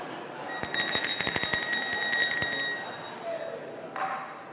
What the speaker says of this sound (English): It's the official bell of every meeting that we go.